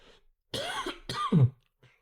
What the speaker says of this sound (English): I told you that I'm gonna be coughing.